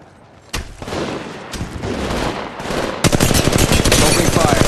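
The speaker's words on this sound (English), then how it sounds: "Contact. Firing. Getting shot at." Rapid automatic gunfire rattles in Apex Legends Mobile, loud close bursts breaking in abruptly and building into sustained machine-gun fire, with a voice partly audible underneath.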